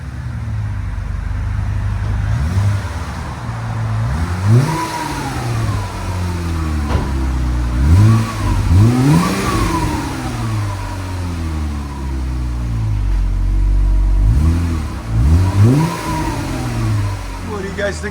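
A 2015 Jeep Wrangler Sahara with a 3.6L V6 and Borla Pro XS exhaust revs in a series of sharp blips and longer pulls over a steady rumbling idle, recorded close and fairly loud.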